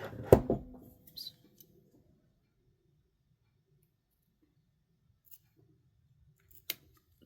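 Scissors trimming a handmade pom pom bookmark: a quick cluster of snips at the start, then near silence with a couple of faint clicks later on, close and quiet.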